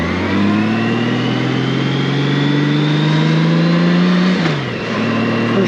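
Motorcycle engine on a shakedown ride home from the shop after repair, a steady loud drone rising in pitch as it accelerates through a gear, with a brief dip in revs near the end before climbing again.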